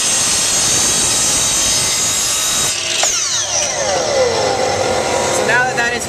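A miter saw makes a 45-degree cut through wood for a bottle holder: a loud, steady blade whine and cutting roar, then the motor spins down with a falling pitch, with some talk over it.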